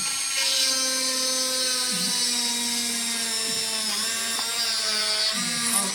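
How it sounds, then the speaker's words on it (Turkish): A Dremel 4000 rotary tool whines continuously while drilling, its pitch dipping briefly several times as it bites into material, loud and close. "rahat bir şekilde delme işlemi de gerçekleştiriyor"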